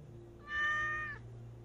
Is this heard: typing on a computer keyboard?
no